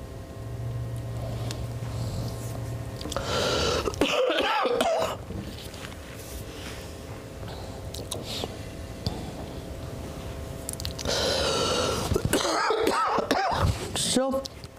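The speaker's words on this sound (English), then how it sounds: "that cough, just, I'm not sick or anything, just keeps hanging on here." A person coughs in bursts between stretches of quieter room sound, close and fairly loud, with a throaty clearing quality and no words spoken.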